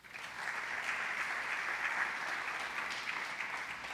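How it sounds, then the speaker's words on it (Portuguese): A church congregation applauds in a sustained, even wash of clapping, heard from a distance with no voices over it. "Dá um aplauso ao Senhor aí."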